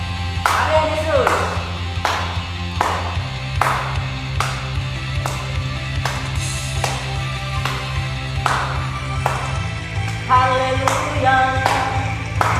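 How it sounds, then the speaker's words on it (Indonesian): A church congregation claps hands in steady rhythm during a worship service, sharp regular claps over a sustained music bed with voices. "tepuk tangan untuk Tuhan ya"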